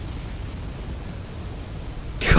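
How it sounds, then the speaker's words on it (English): In the war strategy video game Wargame, explosions and burning fuel make a steady low roaring rumble, ending in a sharper, louder blast burst. "Just see explosions and then fuel burning like this."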